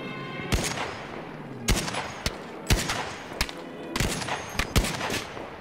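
Scattered gunshots crack in bursts against a rumbling background in Battlefield V multiplayer, several sharp loud reports irregularly spaced, typical of game combat audio.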